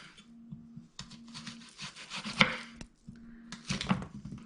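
A knife thinly slices a spring onion (cébette) on a board, giving short rhythmic cutting strokes in bursts, close and fairly clear, with brief pauses between runs of cuts.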